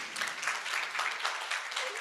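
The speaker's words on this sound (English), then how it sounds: "Let's have another round of applause" A short burst of audience applause fills a forum hall, a steady wash of clapping at moderate volume.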